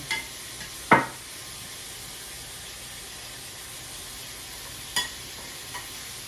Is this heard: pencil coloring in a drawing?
no